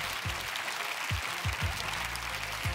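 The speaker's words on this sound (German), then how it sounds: "gibt es auch noch mal Applaus" A TV dance show audience applauds after a street dance performance, with continuous clapping and a few low booming thuds underneath.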